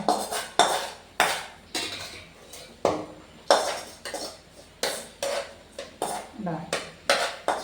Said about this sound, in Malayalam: ഇനിയിപ്പോൾ ഞാൻ കുഴക്കട്ടെ